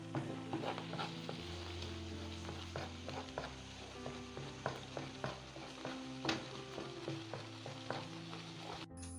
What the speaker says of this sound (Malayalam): ഇതിപ്പോൾ പഞ്ചസാര ഇട്ട് നന്നായിട്ട് ഇളക്കുക.